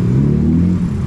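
A Honda Winner X motorcycle engine holds a loud, steady mid-pitched drone close by for about a second, with a slight dip toward the end and no voices.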